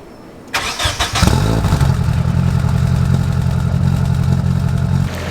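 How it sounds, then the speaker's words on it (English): Nissan 240SX fitted with a new cheap muffler fires up from cold: a brief starter crank, then the engine catches and settles into a loud, steady, throaty idle close to the exhaust. "So that's this thing's cold start."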